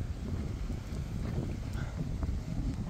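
Wind buffeting the microphone outdoors, a steady low rumble with gusty swells lasting throughout, no voices.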